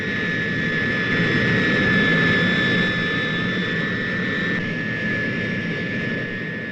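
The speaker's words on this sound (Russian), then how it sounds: "Следом за носителем в воздух поднимается самолет-лаборатория." A Soviet laboratory aircraft follows the bomber carrying the Tsar Bomba hydrogen bomb into the air, a loud sustained jet engine roar with a steady high whine over low rumble, no talking.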